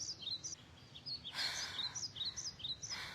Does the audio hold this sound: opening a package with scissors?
no